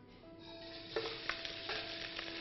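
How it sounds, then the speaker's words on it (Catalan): Pork ribs frying in hot olive oil in a pan, a steady close sizzle with a few sharper crackles and bursts as the meat settles, with no talk over it. "Ara que l'oli és calent, hi posarem la costella plana."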